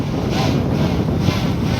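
Strong wind buffets the microphone during a drone flight, a steady loud rushing roar with gusty swells throughout.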